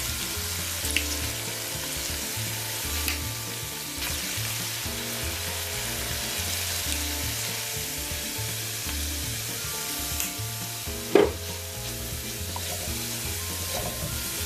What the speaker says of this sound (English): I'm trying to roast my garlic and continue on.